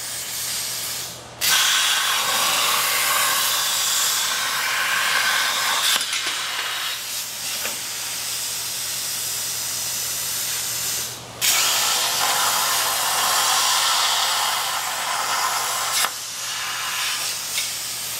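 A cutting torch on an RC6 rotary pipe cutter gives a steady loud hissing roar across the whole stretch. The roar breaks into brief dips and restarts at a few points, with no voices.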